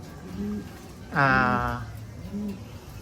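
A pigeon coos nearby: a soft low call, a louder throaty coo in the middle, then another soft call, with faint background noise.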